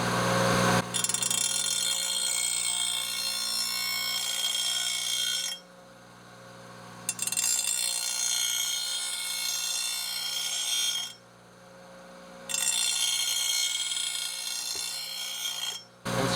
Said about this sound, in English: In order to sharpen them, all you need is a bench grinder and a steady hand.